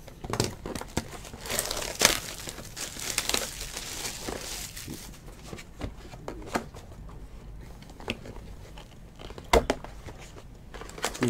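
A box of 2019 Prizm Draft Picks football trading cards being ripped open, with crinkling wrapper and tearing noises in close, irregular bursts and sharp spikes, and no talk.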